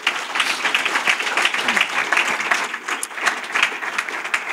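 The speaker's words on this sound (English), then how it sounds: "I think that deserves a round of applause." Audience applause at a conversational talk event, a dense, steady patter of many hands clapping near and loud throughout, with no speech over it.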